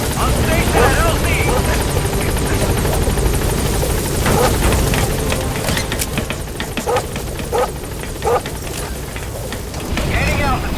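In Metal Gear Solid 5, the Pequod helicopter thumps and whirs continuously at the landing zone with a dense rotor wash, broken by scattered sharp clicks and a radio voice talking over it.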